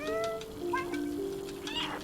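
A cat in the video game Stray gives a quick series of short, close meows, some rising in pitch, over quiet game ambience.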